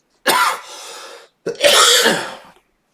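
Two harsh, close coughing fits, the second longer and raspier, separated by a short pause with no talking.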